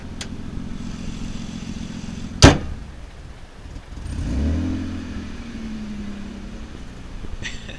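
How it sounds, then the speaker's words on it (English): Mitsubishi Eclipse engine idling roughly and shaking, struggling to stay running, with a loud sharp bang from the hood slamming shut followed by a rising, uneven engine surge that settles back into an unsteady idle. "the engine starts shaking and struggles to keep running"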